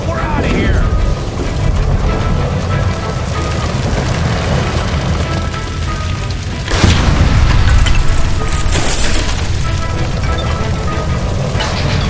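A shot gas line from a stove explodes in L.A. Noire: a sudden loud boom bursts out partway through, over rumbling, busy game noise that continues before and after the blast.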